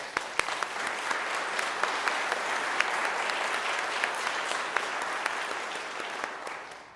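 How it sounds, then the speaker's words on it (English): An audience at a human trafficking awareness event gives a sustained round of applause, a continuous spread of many hands clapping with a few sharper nearby claps, fading slightly at the very end. "I want to give you a round of applause for you are saving lives"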